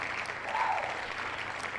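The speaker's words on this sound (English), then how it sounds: "let me do my little cheer" Recorded crowd applause and cheering, played as a congratulation during a World of Warcraft challenges podcast: a steady, even roar of clapping that ends in a sudden louder burst.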